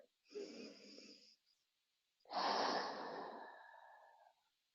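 Slow, deep breaths during a Do-In self-massage stretch, hands clasped behind the back: a short inhale followed by a longer, airy exhale, close and clear in a quiet room with no talking.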